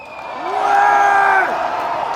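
A large festival crowd at a metal concert roars, cheers and whoops for the stage technicians, a loud swelling mass of voices that peaks and then eases slightly as it carries on.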